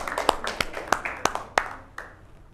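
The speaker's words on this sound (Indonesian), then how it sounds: "Silakan tepuk tangan untuk kelompok yang kedua." Classroom applause for a student group presenting, a handful of sharp, distinct hand claps at irregular intervals, close and fairly quiet, fading out over a couple of seconds.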